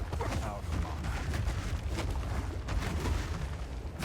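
Dense, continuous explosions and booming blasts from combat in the video game Path of Exile 2, a rapid barrage of overlapping impacts at steady loudness throughout, with faint talk mixed underneath.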